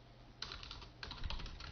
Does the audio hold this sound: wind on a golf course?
no